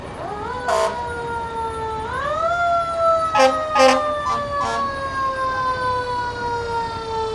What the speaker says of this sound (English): We have a pumpkin fire truck that is passing by right now.